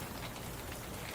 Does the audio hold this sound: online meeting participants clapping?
no